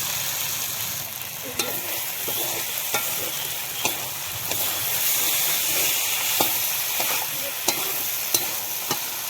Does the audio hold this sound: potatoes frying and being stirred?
yes